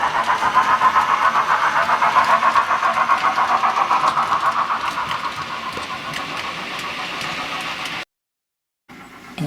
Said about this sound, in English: The chuff's got louder and then it settles back into its rhythm.